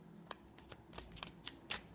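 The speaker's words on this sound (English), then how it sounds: "Apologies if it will take a while to shuffle." Tarot cards being shuffled by hand, a series of soft papery riffles and flicks in irregular bursts, close and fairly quiet with no talking.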